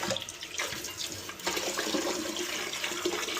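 Water rinses down a Toto toilet, a steady broadband wash of running and splashing that swells slightly after the first second and stays close and continuous, with no talk over it.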